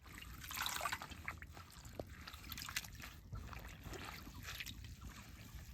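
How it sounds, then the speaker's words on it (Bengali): Soft, quiet splashing and trickling water as young jute leaves are rinsed by hand in a village kitchen, continuous and low without talk. "অনেক সুন্দর করে ধুয়ে নেব।"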